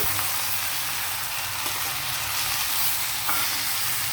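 Chopped coriander and tomato fry in a pan for a sesame and tomato chutney, giving a steady close sizzle with light stirring scrapes throughout.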